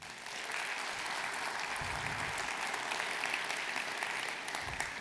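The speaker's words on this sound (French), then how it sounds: "je vous remercie aussi de les applaudir" Steady audience applause fills a hall at a French New Year wishes ceremony, a dense continuous patter of many hands at moderate level with no talk over it.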